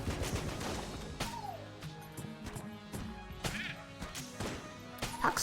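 The Pox Cannon fires in Enter the Gungeon, a series of sharp game blasts and impacts roughly every half second over background game music and effects.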